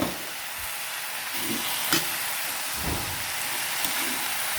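Breaded chicken frying in a pan gives a steady, close sizzle, with a few louder stirring scrapes and clinks mixed into the constant hiss.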